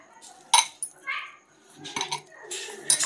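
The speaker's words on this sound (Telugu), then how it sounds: "దీన్ని బాగా మిక్స్ చేసేసుకోవాలి" Taro chunks being tossed with masala powder and corn flour in a bowl for a fried snack, giving several close, brief clinks and scrapes of a utensil against the bowl amid soft rustling.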